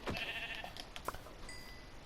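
Sheep bleating in Minecraft on PS4, a few short wavering bleats close by over a faint game ambience, with a brief click partway through and no talking.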